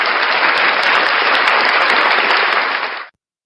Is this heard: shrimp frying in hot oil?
no